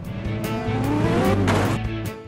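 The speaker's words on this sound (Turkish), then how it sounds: "Bak, bu araba çok fena ötüyor biliyor musunuz?" A car engine screeches and revs hard in the video game Car Parking, a loud, sustained whine with shifting pitch and squealing tires that runs without pause.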